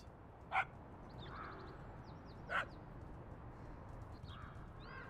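Dog barking in a video game, heard as two short, sharp barks well apart over a quiet ambient bed, with faint bird calls scattered through.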